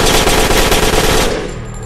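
Rapid machine gun fire from the video game Genocide Dolphins, a loud, dense burst of shots that stops abruptly and leaves a brief fading tail.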